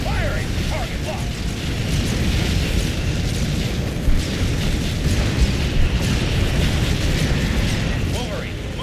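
In the Halo Wars real-time strategy game, units fire volleys amid rumbling explosions and booming impacts, a steady loud battle din with brief sharper bursts and radio-style unit voices layered on top.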